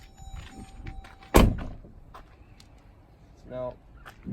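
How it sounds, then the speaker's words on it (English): Door of a 2019 Jeep Grand Cherokee Limited shutting with a single solid thunk, close and fairly quiet, followed by faint cabin sounds. "let's close this door."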